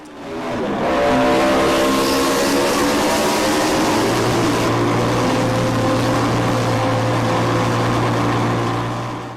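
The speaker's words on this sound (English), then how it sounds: "Note the sound from the MV3 that comes on the right." An MV Agusta three-cylinder racing motorcycle at the Isle of Man TT roars past close and loud, its engine note holding a strong, steady pitch for several seconds before easing off, with no voices.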